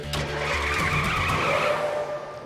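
A cartoon car speeds off with skidding tires, a loud sustained screech over a rising engine whine that holds steady and then eases slightly at the end.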